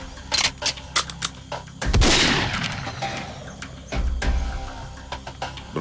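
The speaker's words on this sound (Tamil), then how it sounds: "தம்பி சில்வா நீ சுடு" Gunshots in a Tamil film scene: a burst of sharp cracks, then a heavy booming blast with a long noisy tail, followed by scattered shots and another rumbling burst.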